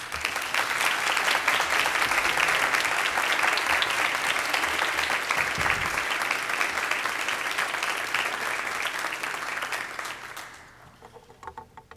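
An audience at a university convocation claps steadily for about ten seconds to welcome the president to the podium, then the applause thins and fades out.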